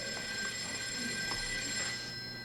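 A telephone keeps ringing on stage in the 1999 On Golden Pond production at the Bickford Theater, a steady bell tone heard moderately loud over a quiet room.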